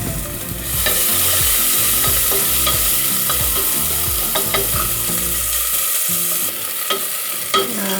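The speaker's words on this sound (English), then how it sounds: "I'm going to add a little bit of avocado or olive oil. You can use either one. And we're going to sear our shallots." Shallots sear in avocado or olive oil for a chicken stroganoff, a loud, dense crackling sizzle with steady stirring scrapes and utensil taps, easing off briefly near the end.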